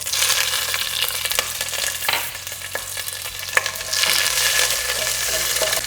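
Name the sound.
green chilies frying in hot oil with spices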